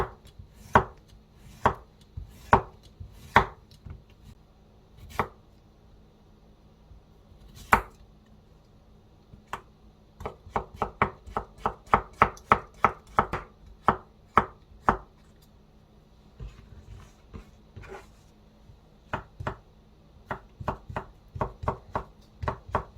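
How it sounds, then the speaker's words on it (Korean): A knife slices zucchini thinly on a cutting board with sharp, distinct chops, first in spaced strokes, then in a faster steady run, then slowing again, close by with no talking. "애호박은 약간만 넣어줄 거예요. 얇게 썰어 볼게요."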